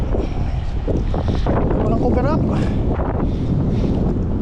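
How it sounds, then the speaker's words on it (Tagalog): Strong wind sweeps over open water, buffeting the microphone with a constant loud rumble while a person speaks over it. "malakas yung hangin"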